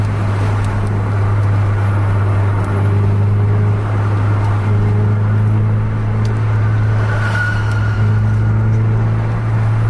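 Two cars racing at full throttle, a loud continuous engine drone holding steady without a break, with no voices.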